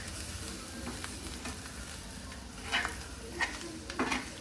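Flour, coriander and ginger roasting in a pan make a soft, steady sizzle throughout, broken by a few louder scraping stirs toward the end, with no voices.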